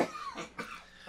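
A man recovering from a cold coughs, two harsh close bursts in about a second.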